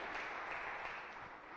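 A church congregation claps together as an offering of praise during a Sunday service, producing a steady, dense wash of hand claps that stays fairly even and slightly distant throughout, with no voices heard over it.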